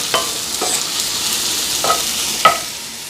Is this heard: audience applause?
no